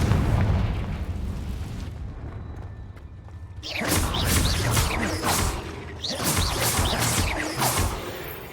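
Confringo fire spell blasts in Hogwarts Legacy, a rumbling explosion followed by two bursts of crackling, popping fire and debris, loud and close over a low background hum.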